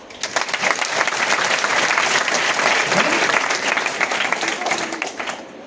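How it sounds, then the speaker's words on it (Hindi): A crowd of young voices clapping together in sustained, dense applause that swells briefly and fades near the end. "सब बच्चों के लिए तालियां"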